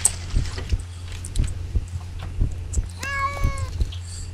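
Several cat meows with rising, drawn-out tones, clear and fairly close, over a steady low hum and rhythmic thumping game sounds.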